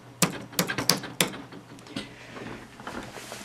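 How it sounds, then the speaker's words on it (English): Typing on a loud computer keyboard: a quick run of four or five sharp, clacking keystrokes up close, followed by softer, scattered taps and faint room noise. "Which is why whenever I'm typing on this, you can hear,"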